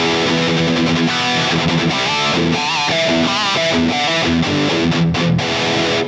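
An electric guitar plays through a Mesa Boogie amp's distortion channel with no effects, a loud, dense, saturated tone with sustained chords and note changes running continuously.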